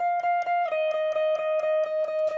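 Lead guitar plays the bridge part of Nadie Como Tu, with a sustained high note ringing over evenly repeated picked attacks at a steady pulse, clear and close with no talking.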